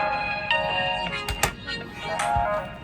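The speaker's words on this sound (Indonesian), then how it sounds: "Sopo iki telepon meneh?" A phone ringtone for an incoming call plays as a bright repeating melodic tone, fairly loud and close, with a few knocks and handling bumps around it.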